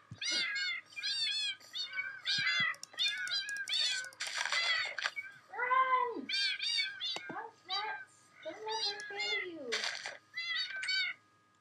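Many tabby cats in a video game meow one after another in quick succession, with high, wavering cries mixed with a few lower, drawn-out yowls. They are loud and close, with short gaps between calls.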